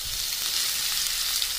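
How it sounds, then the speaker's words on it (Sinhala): Winged beans fry in hot oil in a pan, making a dense, steady sizzle that holds at an even level with no talking. "තෙල් ටික හොඳට උතුරනකොට අපි හදාගත්ත දඹල එක මේකට දා ගන්නවා."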